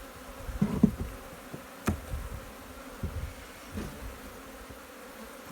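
Honey bees at an open beehive buzz and whine in short, irregular bursts, some passing close and loud, over a low background hum, with no talk.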